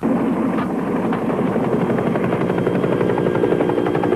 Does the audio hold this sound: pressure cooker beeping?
no